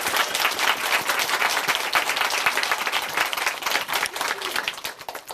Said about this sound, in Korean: 다시 한번 화이팅하면서 박수 보내드릴까요?